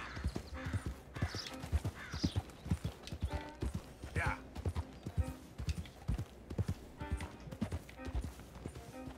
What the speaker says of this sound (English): What are those horses?